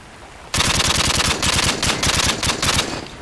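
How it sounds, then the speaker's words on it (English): Rapid bursts of automatic gunfire from a first-person shooter game, loud and close, a fast stream of shots starting abruptly and running for about three seconds. "I just tried to shoot him through the wall."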